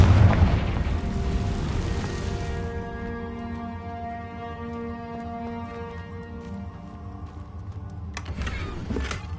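A heavy Confringo blasting-spell explosion in the Hogwarts Legacy video game, a loud broad boom that decays into a sustained tonal rumble, followed by a brief sharp crack near the end.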